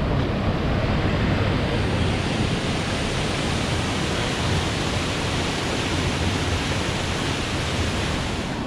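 Waterfalls at the Sinks, formed by an early-1900s log jam, give a steady, loud roar of rushing water. The wash is broadband, close and unbroken, with no voices.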